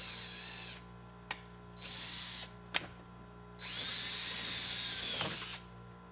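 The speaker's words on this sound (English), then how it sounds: "And then we're going to use a 5/16 drill bit" A power drill with a 5/16 bit drills a hole on a Can-Am UTV for a heater install, whirring in several bursts, starting and stopping, with a couple of sharp clicks between runs; close and fairly quiet, no voices.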